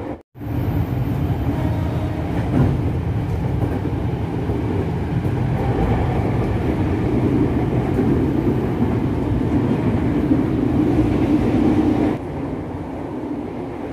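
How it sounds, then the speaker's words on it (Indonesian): Steady rumble and rattle inside a moving Japanese-built KRL commuter train carriage between Jogja and Solo, a continuous loud drone with faint clacking, no voices. "ini nih interior dari KRL asli buatan Jepang"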